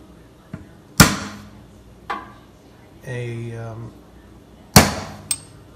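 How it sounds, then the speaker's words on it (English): A hammer strikes a metal punch to score a door during a lock installation: two sharp metallic hits and a lighter tap, with a short stretch of talk between them. "Use a punch to score the door"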